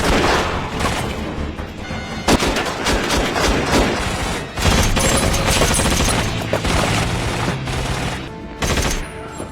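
Rapid gunfire in a film shootout, loud bursts of automatic fire mixed with heavy booms, continuous and dense with sharp peaks throughout and no pauses.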